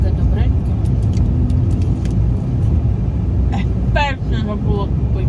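A car rolls along slowly, heard from inside as a steady low rumble that fills the whole stretch, with a short voice sound and small rattles near the end.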